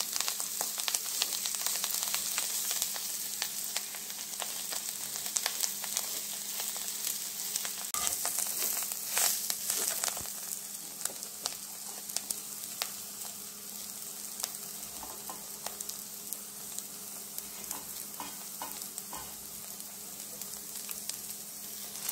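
Green chickpea leaves stir-fry in a pan, a steady, soft frying sizzle with light crackles and spatters running continuously throughout, no voices.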